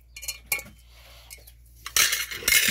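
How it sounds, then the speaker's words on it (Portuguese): A metal cooking pot is handled beside a wood-fired stove, giving a few sharp clanks and clinks and then a louder stretch of scraping and rattling metal, with no talk. "já tá aqui já a panela"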